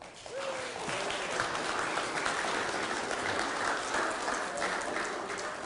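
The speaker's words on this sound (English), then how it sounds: "Give them an applause." A seminar audience at a sales training session gives a steady round of applause, an even wash of clapping with a faint voice briefly heard near the start.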